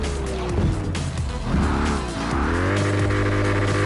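A car in the drifting game CarX, an M4, brakes hard with engine whine and tire squeal sliding across the lanes, continuous and close for a few seconds.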